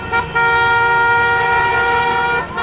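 A car horn blares in city traffic, one long sustained toot after a brief tap, loud and close.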